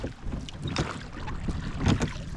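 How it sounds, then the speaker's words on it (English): Rowboat being rowed out to a sailboat through very shallow water on Lake Superior, with soft splashing oar strokes and water sloshing close by, some wind noise, no talking. "is rowing us back out to the boat"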